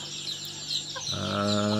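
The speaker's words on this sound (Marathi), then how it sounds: "हे बघा, आपल्याकडे प्युअर गावठी कोंबडी आहेत" Pure-bred village desi hens let out in a rural Ratnagiri yard cluck softly, a faint low murmur that swells into steadier, fuller clucking toward the end, with no talk.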